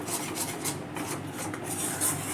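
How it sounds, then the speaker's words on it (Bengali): Spiced masala with chili powder being stir-fried and scraped in a pan for a yogurt-based pointed gourd curry, a steady close rasping of a spatula against metal with faint sizzle, no talk. "এইভাবে এটাকে ভালো করে আর একটু কষিয়ে নেব।"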